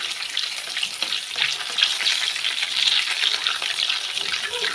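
Brik pastry fries in hot oil with a bright, continuous crackling sizzle that stays close and fairly loud throughout.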